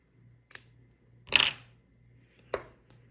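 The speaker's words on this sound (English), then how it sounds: "Use my crappy scissors." A few sharp snips of cheap scissors cutting dark brown fly-tying thread, close by and quiet, with one louder cut in the middle and brief pauses between.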